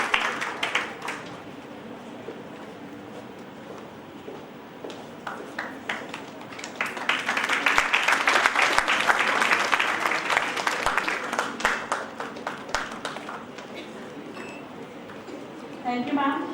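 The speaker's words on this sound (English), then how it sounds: "give a huge round of applause for the ma'am" An audience at an international conference applauds as a memento is presented, the clapping swelling from scattered taps into a full, sustained round mid-clip before easing off, heard from within a large hall.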